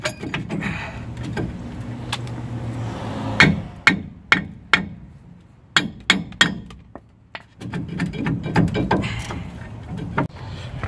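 A hammer strikes a rusted brake rotor on a Ford F-150, sharp metallic blows landing one at a time in a loose irregular rhythm, close and loud, with a lower rumbling hum between the hits.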